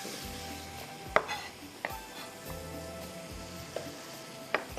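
Onion fries in a pan for a spicy chicken sauce, making a soft, steady sizzle broken by a few sharp clicks of a utensil against the pan.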